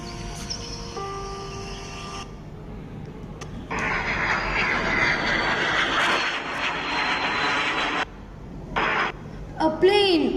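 A fixed-wing airplane passes overhead, its broad engine roar swelling in after a few seconds, holding steady, then cutting off, alongside music and a brief voice at a school stage cultural event.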